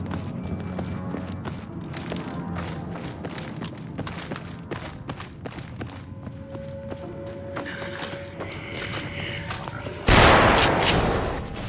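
A modded gun in Fallout 4: Far Harbor fires one loud, sudden shot near the end, its blast sharp and close, after a stretch of busy game noise, music and footsteps.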